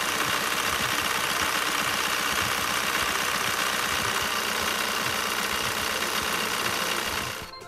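A warm VW TDI diesel engine idles steadily with a rough, knocking rumble, constant and close, before cutting off near the end.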